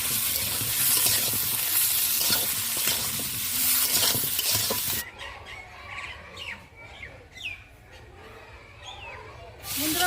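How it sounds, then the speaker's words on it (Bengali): Potatoes and tomato stirred and frying in a pan for a pangas fish curry, a loud sizzle with scraping for the first half, then a quieter crackle with chirpy sounds in the background. "বন্ধুরা এবারে আলু আর টমেটোটা দিয়ে দেবো নাড়বো"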